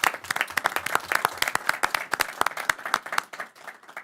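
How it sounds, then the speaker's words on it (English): A modest group at a board meeting applauds with sharp, distinct claps from a few pairs of hands. The clapping is fairly close and irregular, and it tapers off toward the end. "I suggest a round of applause for Mark and Jane Nathanson"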